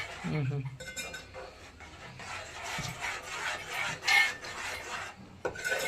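Mysore pak sweet mixture being stirred continuously in a pan, a steady scraping and rasping of a spoon against the metal with occasional clinks, close and fairly loud, with a voice briefly speaking over it.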